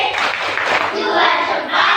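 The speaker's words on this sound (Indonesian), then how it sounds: "Iya, betul sekali, tepuk tangan." Children in a classroom clap their hands together in a dense, continuous burst of applause, with young voices mixed in beneath the clapping.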